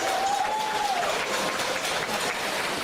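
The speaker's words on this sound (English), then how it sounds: "A round of applause for the trainers one more time." Audience applause for pageant trainers at a Miss Jamaica Festival Queen coronation show in St. Thomas, a steady, dense wash of clapping that holds at an even level throughout, with a faint voice or whistle tone early on.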